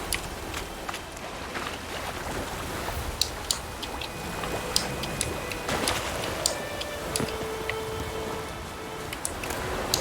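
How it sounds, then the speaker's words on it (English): Steady pouring rain in the video game The Witcher 3, a dense constant hiss of drops with scattered sharp ticks, no speech. "It keeps pouring like this, all my bulbs are gone."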